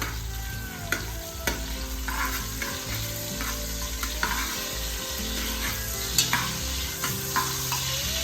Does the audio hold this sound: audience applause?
no